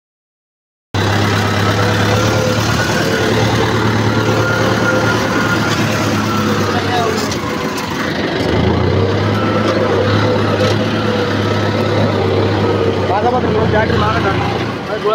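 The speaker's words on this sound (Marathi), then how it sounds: "रात्रीच्या टायमाला ट्रॅक्टर जायची मजाच वेगळी राहते." A tractor engine runs on a village road at night, a loud, steady low drone that dips briefly midway and then resumes, constant and close throughout.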